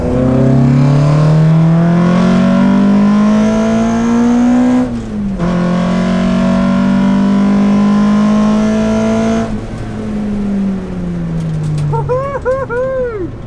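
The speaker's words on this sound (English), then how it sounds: "I can't believe I'm actually driving the original Project 2000 Max Power demo car." The original Ford Project 2000 Max Power demo car, a 22-year-old pink Ford, drives hard on a race track, its engine droning loud and steady through long rising revs, with a brief lift near the middle and tire squeal at the end.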